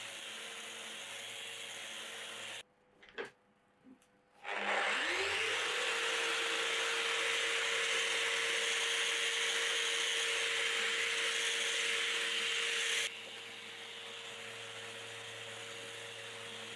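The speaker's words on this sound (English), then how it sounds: "For the flat surfaces, I found it easier to use my Festool sander" Festool power sander working across the flat surfaces of a wooden vintage vanity, a loud steady whine that runs for about eight seconds after a few handling knocks, then cuts off to a quieter hum.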